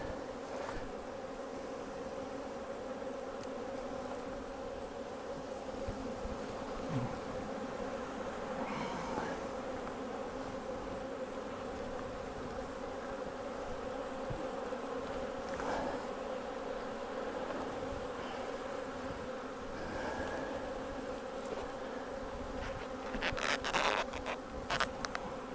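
Honey bees buzz continuously around the hive supers, a dense, even drone with individual bees passing nearer now and then.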